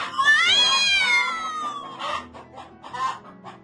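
A hen clucks and a cat meows in quick succession: a long rising-then-falling cry followed by short clucking bursts, close and clear, over a faint musical bed.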